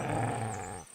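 Low, rumbling dog growl from a video game, Kingdom Come Deliverance 2, sustained for nearly a second and then cut off abruptly, close and moderately loud.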